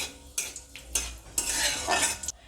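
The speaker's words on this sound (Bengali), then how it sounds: "3 থেকে 4 সেকেন্ডের মতো ফোড়নটা হালকা নাড়াচাড়া করে নেব।" A whole dried red chili and a bay leaf tempering in hot oil, stirred briefly with a metal utensil that scrapes and clinks against the pan in several quick strokes over a soft sizzle.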